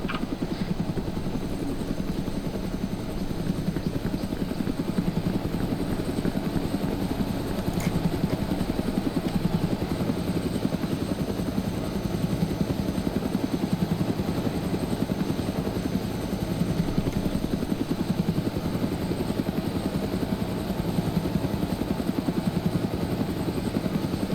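A helicopter's rotor thumps steadily alongside a constant turbine whine in the video game ArmA 3, close and unbroken for the whole stretch, with no voices.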